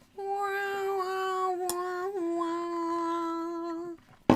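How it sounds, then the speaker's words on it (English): A single bowed violin note plays as a sound effect, sustained and wavering for several seconds, bending slightly in pitch before stopping abruptly, loud and close. "That was a violin, by the way."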